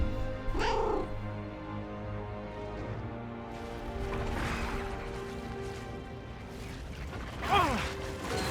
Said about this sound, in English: My actual kitty is here making noises.